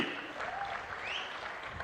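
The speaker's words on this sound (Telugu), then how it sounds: "గట్టిగా చప్పట్లు కొట్టండి" A crowd claps briefly at an outdoor political public meeting in Gudivada. The clapping sounds faint and distant, a soft, steady patter lasting under two seconds.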